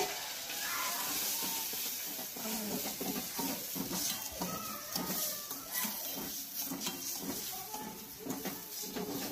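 Tomatoes, peas and mixed vegetables fry in a pan while being stirred, a soft continuous sizzle with scraping spoon strokes throughout, fairly quiet and without talk.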